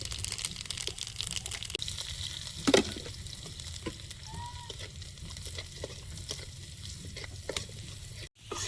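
Whole cumin, dried red chillies and chopped garlic sputter and sizzle in hot oil in a kadai, a steady close crackling hiss with a brief louder burst partway through and no talk.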